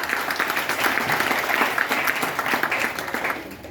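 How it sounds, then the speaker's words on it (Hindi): An audience claps together at a business achievers event, producing dense, continuous applause that holds steady for several seconds before tapering slightly at the end. "आपको सर और विनोद सर के लिए मैं ताली जरूर चाहूंगा एक बार"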